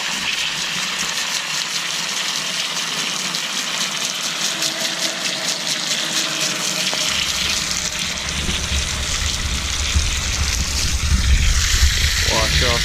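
Water sprays steadily from a hose to wash dirt off brick while planting grass seed, with a continuous hissing rush under a low pump-like hum that grows louder and fuller in the second half.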